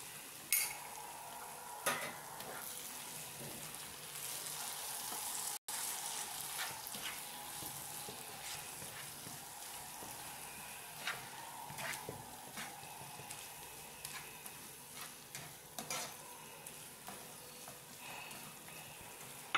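A chili mix made with Kashmiri red chili poured into a hot pan, giving a quiet, steady sizzle with scattered light clicks and pops throughout.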